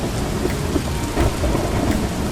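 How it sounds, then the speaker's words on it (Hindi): Heavy rain pours continuously with low rumbling thunder in a cold-weather downpour, a loud, dense and unbroken roar with no voices. "अगले ही दिन भारी बारिश के बीच दिवाकर नितिन को हॉस्टल छोड़ आया।"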